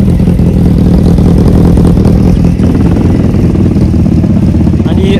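A Kawasaki 1000 sportbike fitted with an aftermarket exhaust rumbles loudly and close, holding a deep steady idle throughout.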